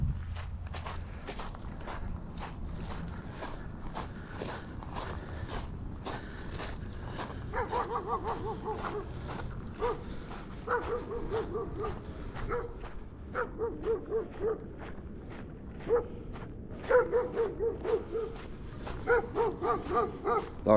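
A friendly dog on a hiking trail on Bainbridge Island greets a walker with scattered yips, whimpers and short barks over steady crunching footsteps, the dog's calls growing louder and more frequent toward the end.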